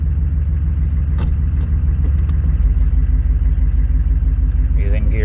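Car engine idling with a steady low rumble in freezing cold while the car is eased forward on a slippery surface, close and loud throughout with a brief clunk and a faint whine near the end.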